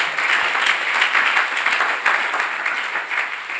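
A church congregation at a Sunday service claps and cheers for Jesus, a dense, continuous wash of applause filling the room throughout.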